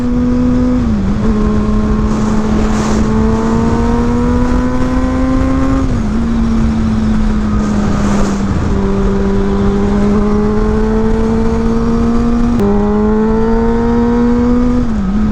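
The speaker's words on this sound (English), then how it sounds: "I really get annoyed with all this traffic." Road traffic on a warm 80-degree day in Cincinnati: a loud, continuous, close-up engine drone whose pitch rises and dips in steady surges, with no talking.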